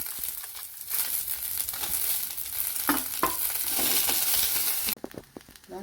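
Garlic and chillies sauté in a pan for a millet dosa chutney, giving a steady close sizzle with scraping stirs throughout and a brief pause near the end.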